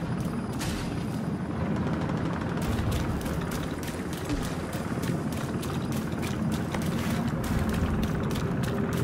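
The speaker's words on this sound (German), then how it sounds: "Der Bergungshelikopter ist fast da." A rescue helicopter arrives in the video game The Division 2 amid a dense, continuous roar of rotor thrum and rushing noise, with rapid crackling bursts like gunfire scattered through it, loud and unbroken throughout.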